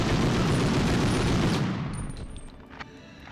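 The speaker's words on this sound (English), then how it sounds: "Already pissing me off with your gunshots everywhere." Gunfire in the PS1 game Medal of Honor during the V2 rocket plant escape, a dense loud fusillade of shots that cuts off abruptly and leaves a fading echo with a few faint later pops.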